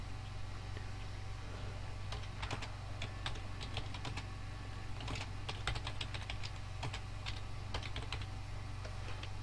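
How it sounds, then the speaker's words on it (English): Clicky keystrokes on a noisy computer keyboard, rapid irregular bursts of taps close by, quiet against a constant low electrical hum, with no talking. "Can't help it, it's a noisy keyboard."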